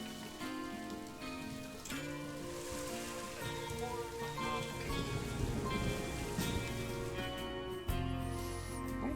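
Rain patters steadily on surfaces in the zoo-building game Planet Zoo, a dense continuous fall heard under layered game music and occasional interface clicks.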